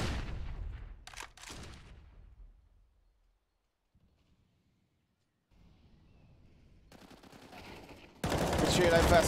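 M4 rifles firing during a Counter-Strike match on the Inferno map: a burst of gunfire at the start fades into near silence, then rapid, loud shots return at the end.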